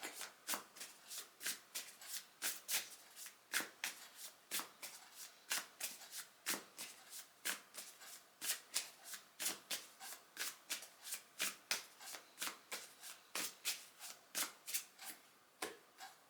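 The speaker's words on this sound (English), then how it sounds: "So, pulling a card from this deck." A deck of reading cards being shuffled, soft riffling bursts repeating in a steady rhythm, close and quiet, with no voices.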